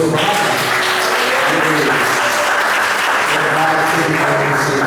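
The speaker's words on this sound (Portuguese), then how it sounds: "Vamos aplaudir o Senhor." A church congregation applauds together, a dense, loud and steady wash of clapping that fills the room evenly from start to finish, with no pause or fade.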